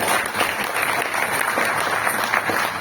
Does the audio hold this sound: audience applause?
yes